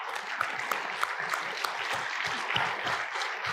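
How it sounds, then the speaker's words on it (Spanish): A church congregation claps in praise, many hands striking together in a sustained, crisp round with a few sharp claps standing out close to the microphone. "Yo le quiero dar un aplauso al Señor por eso."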